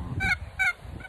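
A pet turkey hen gives a worry call: three short, sharp honking notes in an even rhythm, close and fairly loud over a low background rumble.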